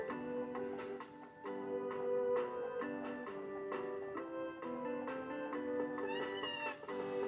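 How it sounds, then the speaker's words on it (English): Cat meows from Harvest Moon: A Wonderful Life Special Edition on PS2, a few short mews woven into steady, melodic in-game music that plays throughout. "Oh, I forgot about the cat."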